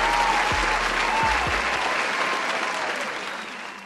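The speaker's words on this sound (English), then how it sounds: "Give yourself a round of applause" Steady applause from a small group of people, dense and continuous, gradually thinning and fading toward the end, with a few low thumps near the start.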